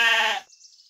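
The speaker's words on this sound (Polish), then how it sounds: "A wiecie, jaki odgłos wydaje owieczka?" A sheep gives a single close, loud bleat lasting under half a second, a wavering nasal cry that cuts off cleanly, followed by faint quiet.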